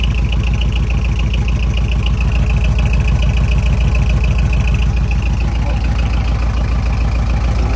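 A 2000 Mitsubishi Canter cargo dropside truck with an aftermarket muffler idles loudly up close with a deep, rapid, even rumble and a throaty exhaust note that holds steady throughout.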